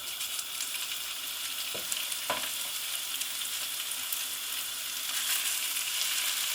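Continuous crackling sizzle of leftovers frying for bubble and squeak in a hot pan, with a couple of soft clinks partway through.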